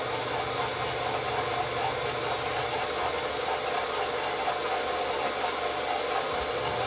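An electric stand mixer kneading bagel dough, giving off a steady, loud motor hum with a constant whirring drone throughout and no speech over it.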